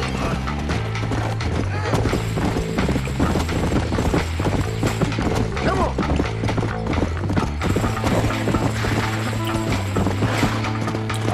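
Rhythmic horse hoofbeats in the video game Red Dead Redemption clip-clop steadily throughout over a continuous musical background, with occasional mechanical clatter mixed in.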